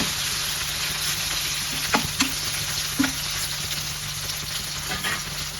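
Chicken with tamarind leaves frying in a pan, a continuous loud hiss and sizzle with a few sharp clinks of a utensil stirring.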